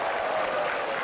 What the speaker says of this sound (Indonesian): Tepuk tangan yang mulia.